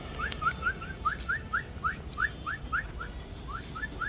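A person whistles to call dogs, giving a rapid series of about a dozen short, upward-sliding chirps at an even rhythm. The whistles are fairly faint against a low outdoor background hum.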